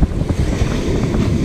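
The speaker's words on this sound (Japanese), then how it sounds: "こうザプンザプンってね、こう 波が揉まれて揉まれて" Ocean surf churning and foaming on a beach where fishing lures are being tested: a loud, continuous wash of waves mixed with strong wind buffeting the microphone, no voices.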